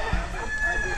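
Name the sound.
rooster crowing at a game fowl farm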